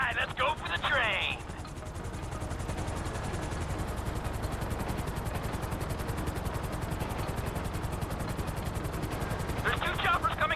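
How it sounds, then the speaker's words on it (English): Helicopter rotors beat in a fast, steady rhythmic chop in Grand Theft Auto V, loud and continuous throughout, with short bursts of other game sounds at the start and end. "There's two choppers coming toward my train."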